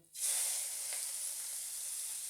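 Chopped onion hits hot oil in a pan just used for frying fish, bursting into a loud, steady sizzle that carries on evenly, close up, with no talking.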